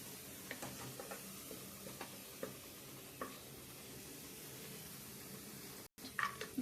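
Food for a chicken biryani garnish frying quietly in a pan, a soft steady sizzle with scattered stirring clicks and a brief cutout near the end.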